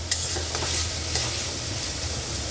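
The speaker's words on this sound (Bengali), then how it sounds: "আমি আলু সয়াবিনটা ভালো করে ভেজে নিই" Potatoes and soya chunks fry in a pan with a bright, constant sizzle, while a utensil scrapes and stirs with a few sharp clicks near the start. The sound is close and steady, with no talking.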